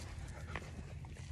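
A hunting dog named Macy gives a soft, brief whimper near a creek, faint and short against steady outdoor background noise.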